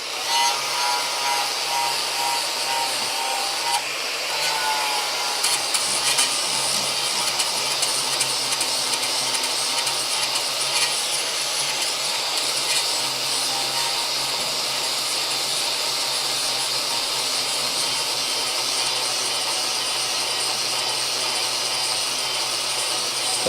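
An angle grinder smooths welded metal flat on a Crew Cab Charger, a steady loud harsh whine running continuously with slight surges as it moves back and forth, no talking.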